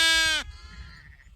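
A ewe at lambing time gives one loud, close bleat with a wavering, nasal tone, which breaks off into quiet farmyard background.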